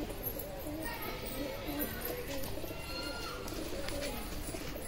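Show pigeons kept in a flock coo softly and continuously, with low murmuring calls layered over faint background noise throughout.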